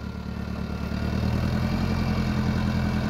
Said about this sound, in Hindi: 1 फीट की जुताई में देखो बंद होने की नौबत आ रही है ट्रैक्टर।